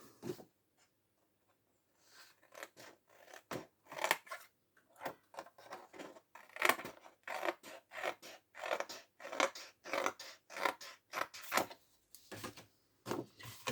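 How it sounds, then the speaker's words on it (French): Close, quiet scissor snips cut a photo for an art collage album, an irregular series of crisp cuts with papery rustles between them and short pauses. "je découpe ma photo telle qu'elle est"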